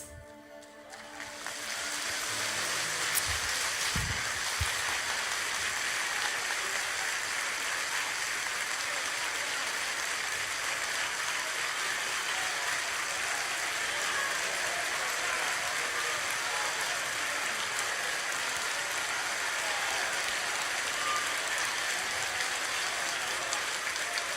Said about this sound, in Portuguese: Querido Jesus, o Senhor aceitaria agora um vibrante aplauso do teu povo?